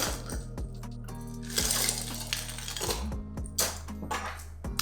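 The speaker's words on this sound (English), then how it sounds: "fill your cup halfway with crushed ice" Crushed ice tumbles into a cup for a mint julep in clattery, tinkling bursts, with sharp clinks and a rattling pour that comes in several uneven waves, close and fairly loud.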